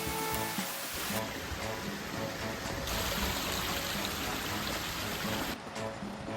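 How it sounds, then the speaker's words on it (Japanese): Steady rushing water of a nearby mountain river in a gorge in Niigata, Japan, a broad continuous wash with no voices, fairly loud and even throughout. "川が近くなってきましたね。"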